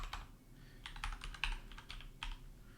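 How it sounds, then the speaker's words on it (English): Computer keyboard typing in irregular bursts of quick clicks and taps, fairly quiet and close, with short pauses between runs of keystrokes and no voices. "I have a hard time typing and talking at the same time."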